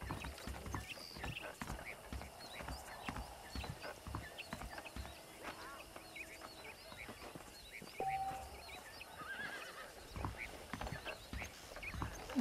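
Saddled horses' hooves clip-clop in a steady walking rhythm in the Red Dead Redemption video game, fairly quiet and mid-distance, with a brief whinny and faint ambient birds and background sounds.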